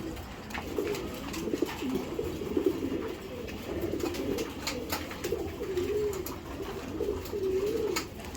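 Male racing pigeon cooing repeatedly to a hen, a close, steady series of rolling coos with no voices.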